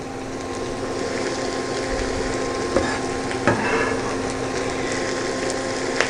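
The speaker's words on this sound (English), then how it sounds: "We're going to sweat out all these peppers. Get a nice saute on them." Onions and peppers sauté in a pan beside stuffed portobello mushrooms, with a steady loud sizzle throughout and a few stirring scrapes.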